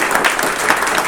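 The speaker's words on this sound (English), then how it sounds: "I think everyone should give a round of applause to Eric Huffman." A convention audience at an opening ceremony claps for an artist, a dense, loud and steady burst of applause filling the room.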